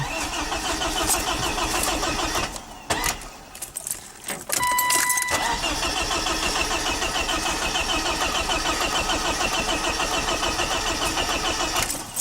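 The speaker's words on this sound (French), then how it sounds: "le starter coupe pas, puis il n'y a pas de backfire" A BMW E36 engine is cranked by its starter, a continuous loud whirring churn that breaks off briefly partway through and then resumes for several more seconds without catching.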